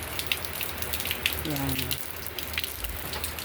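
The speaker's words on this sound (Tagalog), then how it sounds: "Ayan, binigyan tayo ni Lord ng ulan" Rain patters and splashes steadily outdoors under an overcast sky, with scattered drips and a brief gush; a voice speaks a single word.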